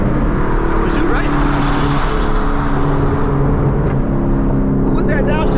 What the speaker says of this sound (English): Who was that downshifting? I heard somebody downshifting.